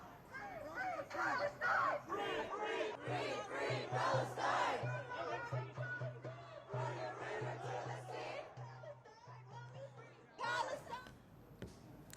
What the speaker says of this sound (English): a large crowd gathered outside the White House too